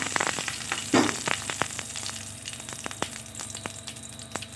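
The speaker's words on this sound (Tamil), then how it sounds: "நம்ம கருவேப்பிலையும் ஒரு மிளகாய் வத்தலும் சேர்த்துக்கலாம்." Curry leaves and a dried red chilli crackle and sizzle in hot oil in a frying pan, with sharp pops and spits over a steady frying hiss, one louder burst near the start.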